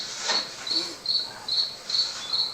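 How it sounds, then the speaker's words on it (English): Crickets chirp in a steady, repeating pulse, a high shrill trill recurring about twice a second against quiet night background. "I realized that I prefer the death screams to crickets chirping."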